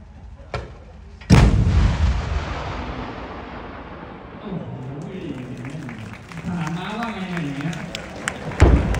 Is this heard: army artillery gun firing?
yes